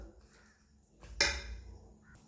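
A spoon mixes mayonnaise with vegetables in a bowl, quiet overall, with one distinct clink and scrape against the bowl partway through amid faint soft stirring.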